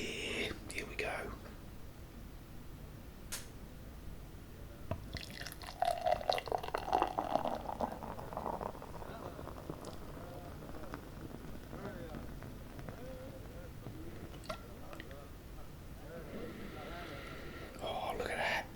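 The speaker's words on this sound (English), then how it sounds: "let's pour ourselves a nice beer" Beer pours into a glass with a fizzy, trickling splash that rises midway, close and soft, amid quiet whispering in a pub-style setting.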